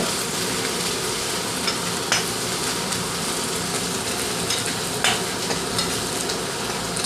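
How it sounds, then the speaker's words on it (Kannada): Onions fry until reddish in a pan for a chicken curry, a continuous dense sizzle with occasional sharp scraping stirs, close and fairly loud with no talking. "ಸ್ವಲ್ಪ ಈರುಳ್ಳಿ ಕೆಂಪುಗಾಗಿದೆ"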